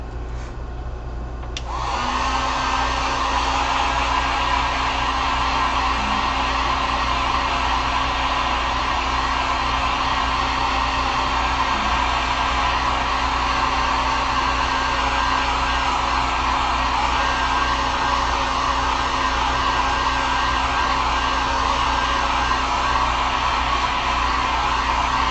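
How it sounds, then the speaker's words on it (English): A heat gun switches on and runs continuously over an acrylic-painted wooden fall pumpkin sign, a steady loud blowing whir with a constant hum, close and unbroken for the whole stretch. "Let me throw our heat gun on here real quick."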